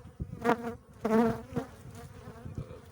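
Honeybees buzzing close by, their drone rising and falling in several swells with no voices.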